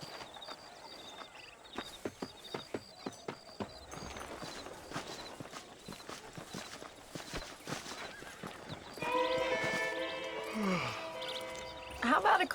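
Horse hooves clip-clop in a steady walking rhythm in Red Dead Redemption, followed by a loud whinny near the end, with game ambience and a brief voice underneath.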